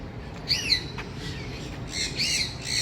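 Harsh bird squawks ring out in short bursts at a wildlife park, a pair early and a louder cluster near the end, over steady background hum.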